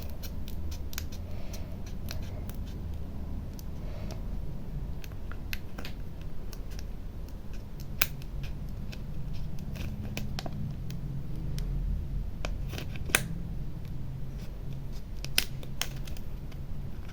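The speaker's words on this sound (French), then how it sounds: "Je vais découper." Scissors snip paper pieces for an art journal page, a string of sharp, close clicks at irregular intervals over a quiet room hum, with no talking.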